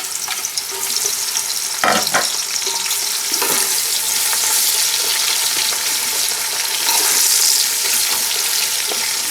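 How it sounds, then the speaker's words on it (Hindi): Onions hit hot oil in a pan for chana masala rice, giving a loud, continuous crackling sizzle with a few sharp pops near the start. "तेल गर्म हो चुका है, बीच में हम अपने अनियंस ऐड कर लेते हैं।"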